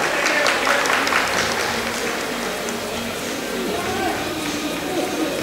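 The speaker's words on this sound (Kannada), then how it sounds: "ದಯವಿಟ್ಟು ಎಲ್ಲರೂ ಚಪ್ಪಾಳೆ ತಟ್ಟುವುದರಲ್ಲಿ ಅವರಿಗೆ ಅಭಿನಂದಿಸೋಣ." An audience at a community jayanti celebration ceremony honouring a guest claps in a sustained, fairly loud round of applause that fades slightly, with a voice speaking over it.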